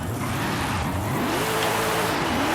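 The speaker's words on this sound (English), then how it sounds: "that literally sounds like a racing V8" A racing V8 engine of a Mercedes AMG Hammer Wagon in Forza Horizon 5 revs and climbs in pitch, a continuous throaty roar with gear-like rises, loud and close.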